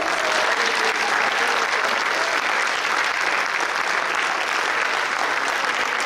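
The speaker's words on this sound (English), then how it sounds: "can we give all of our inductees one more round of applause?" A high school hall of fame induction audience gives the inductees a long, even round of applause, thick steady clapping that fills the hall throughout.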